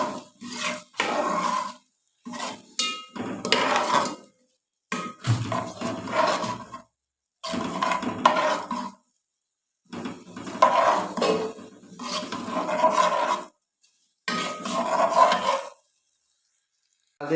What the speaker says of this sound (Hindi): इसको आप हमने भूनना है, इसको ब्राउन करना है।